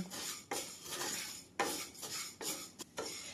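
Whole spices roast in a kadhai for mango and fenugreek pickle, stirred continuously so a spoon scrapes and rattles in repeated rhythmic strokes over a faint dry sizzle, close and fairly quiet, with no talking.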